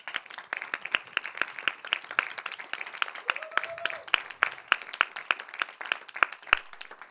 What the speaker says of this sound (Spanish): Un aplauso para Abigail